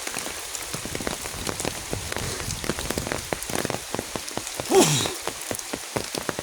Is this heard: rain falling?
yes